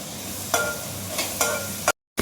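Tomatoes with salt frying in a pan: a steady, close sizzle with several scraping stirs of a utensil, then a brief cut to silence.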